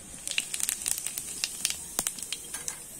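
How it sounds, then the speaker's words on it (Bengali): Cumin seeds sizzle and pop in hot oil in a wok, a dense run of crisp crackles and spits close by, with no talk. "আবারও আমি ওই কড়াইতে তেল দিয়ে দিয়েছি এবং ফোড়ন হিসাবে জিরে দিয়ে দিচ্ছি।"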